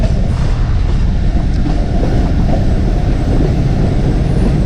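A passenger train at the small Chura Sharif railway station on the Attock to Jand line, a loud continuous low rumble of wheels and carriages with rattling and wind buffeting the microphone, no talk.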